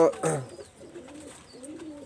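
Teddy golden pigeons coo softly nearby in two drawn-out rolling phrases after a brief louder voice at the start.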